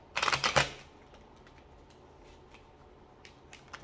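Tarot cards are shuffled with a quick burst of crisp riffling flutters up close, followed by a few faint, scattered card taps in a quiet room.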